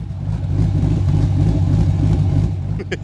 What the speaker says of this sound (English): You can barely hear this exhaust though.